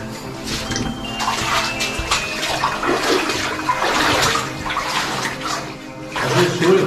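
Water splashes and sloshes as someone wades through a flooded tunnel in the Miniera Azzurra mine on Monte Trisa, irregular close surges and churning, loud and echoing, with no talk.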